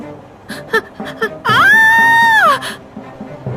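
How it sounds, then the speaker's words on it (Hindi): A woman's loud, sustained scream of about a second follows a few short vocal sounds, high-pitched and close, in a Hindi drama. "चीख क्यों रही हो?"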